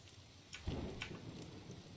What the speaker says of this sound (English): as the rain continues to pour down on us